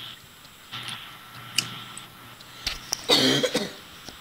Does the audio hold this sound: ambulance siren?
no